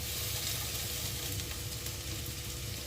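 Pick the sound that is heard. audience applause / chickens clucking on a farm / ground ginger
ground ginger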